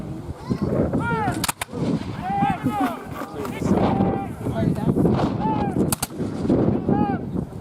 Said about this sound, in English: those noisy, nasty guns out there, field guns of the day